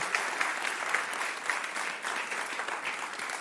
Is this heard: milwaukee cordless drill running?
no